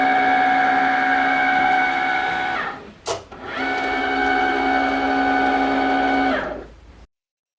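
A Cricut cutting machine cuts a printed sheet, its motor whirring steadily with a brief sharp shift partway through before it resumes and stops abruptly.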